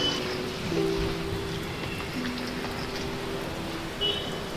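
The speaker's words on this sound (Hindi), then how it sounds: "देखिए बारिश भी हुआ हो रहा है अभी भी थोड़ा थोड़ा" Light rain falls outdoors, a steady soft hiss of drops on surfaces that carries evenly through the scene, with a few faint tones in the background.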